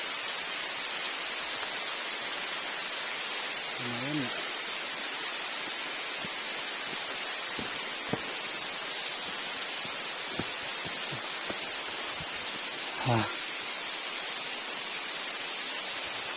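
Steady rain hisses through a forest during the daytime, a dense continuous wash of noise, with a few faint knocks and brief bits of quiet talk.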